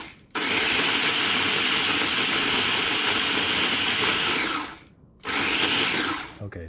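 KitchenAid 3.5-cup food chopper running loud and steady with its motor whirring and blades chopping for over four seconds, then a short pause and a second burst.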